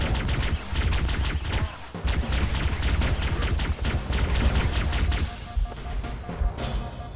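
Rapid, dense gunfire from Halo: Combat Evolved, with loud repeated shots and bursts in a near-continuous volley and a short lull midway.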